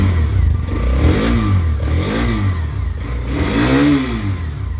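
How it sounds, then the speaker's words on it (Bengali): A Hero Xtreme 125R motorcycle in fresh condition idles and is revved in repeated rising swells, close and loud, with a mid-pitched engine note and no talk over it. "বাইকটা স্টার্ট দিলাম"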